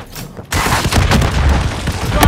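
Dense automatic gunfire from Call of Duty: Modern Warfare III cuts in abruptly and keeps up a loud, continuous roar of overlapping shots and booms. A voice is mixed into the fire.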